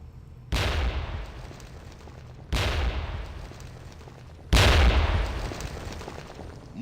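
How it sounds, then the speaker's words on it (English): Explosions blowing up an apartment in the video game Knights of the Old Republic, three loud separate blasts, each with a sharp onset and a long rumbling decay, heard alone. "he's gonna blow the hell out of this apartment"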